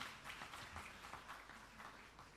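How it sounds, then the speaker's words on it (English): A faint, distant crowd claps for a choir at a university event, a soft steady patter of hands. "Please give them another round of applause"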